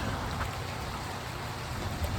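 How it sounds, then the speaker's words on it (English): Steady rain falls in the first rain of the season, an even, dense patter with no voices over it. "We got the rain, and that doesn't get any better than that. It's also falling at a perfect rate"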